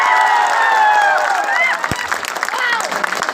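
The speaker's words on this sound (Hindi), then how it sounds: "बजाओ ऐसी तालियां कि आप सबको जोश आ जाए" Crowd at a Navratri stage event in India clapping and cheering loudly and steadily throughout, with voices calling out over the applause.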